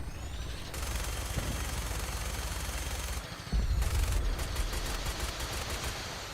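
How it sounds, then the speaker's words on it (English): Sustained automatic gunfire from Institute enemies in Fallout 4 survival mode, steady rattling bursts that pause briefly and then resume louder, with no talk over it. "Why is the Institute shooting at me?"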